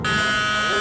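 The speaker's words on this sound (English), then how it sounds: "With Carrie only a heartbeat away from the buzzer" A game show buzzer blares as one loud, steady, harsh electronic tone lasting just under a second, close and alone.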